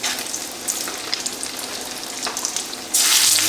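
Meatball and chicken pieces for hoagies and parm subs frying in a pan, a loud continuous crackling sizzle that swells sharply louder near the end, with no talking.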